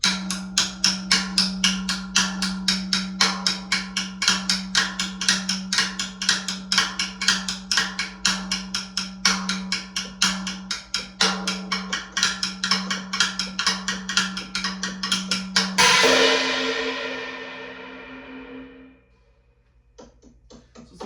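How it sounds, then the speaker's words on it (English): Rapid, even paradiddles and flam taps on a practice pad patter continuously in a steady pattern over a sustained hum, then a final cymbal-like crash rings out and fades to silence. "on a louder surface, it would sound like this. So paradiddles, then the flam taps"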